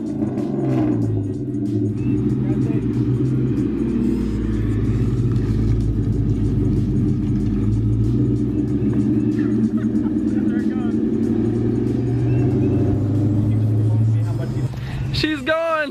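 A 2003 Ford Mustang GT with the 2-valve V8 rumbles steadily and loudly, its deep engine drone holding nearly constant for most of the stretch before a brief swell near the end.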